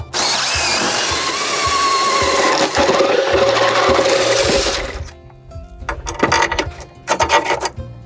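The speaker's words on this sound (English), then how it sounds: "The guys began drilling through the epoxy to install the bolts." A power drill bores through epoxy aboard a sailboat to fit bolts, a loud continuous whine for about five seconds, then shorter stuttering bursts of drilling.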